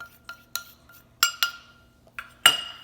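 A spoon clinks against a mixing bowl while blueberry cake batter is stirred, giving about six sharp, separate taps spread over a few seconds, with quiet gaps between them.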